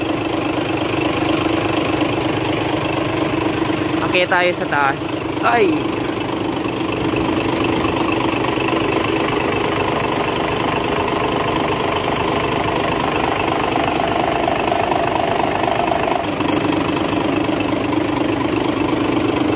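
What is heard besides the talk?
Isuzu Gigamax 6WF1 diesel truck engine idling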